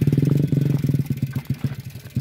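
Motorcycle engine labouring uphill on a rough, rocky mountain road, close and loud with a choppy, pulsing chug that rises and falls as the bike struggles over stones.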